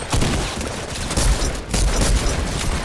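Rapid video game gunfire, a dense fusillade of loud shots crackling continuously for a few seconds with heavier bursts in the middle, no voices over it.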